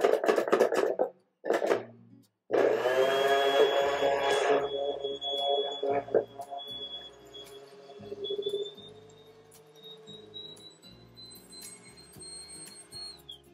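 A small handheld car paint polishing machine spins up and keeps running with a thin, steady whine that rises in pitch toward the end, after some short clicks and handling noises at the start.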